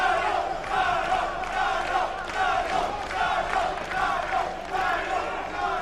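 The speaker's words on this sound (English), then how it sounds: "You hear the Gajo chant from the crowd." At a boxing match, a large crowd chants a boxer's name in a steady rhythmic cadence. The repeated, loud massed voices fill the arena continuously.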